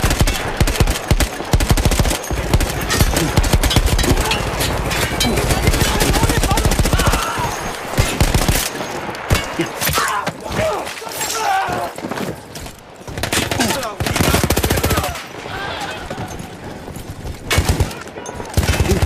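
A mounted gun fires long, rapid bursts in Battlefield 1, loud and close, hammering on and off for most of the stretch with brief pauses, while hooves, distant battle noise and voices sit underneath.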